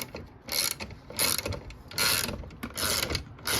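Bolt being removed from the fuel filler door of a 1993 Cadillac Fleetwood Brougham, heard as repeated close ratcheting bursts, about five quick clicking runs separated by short pauses.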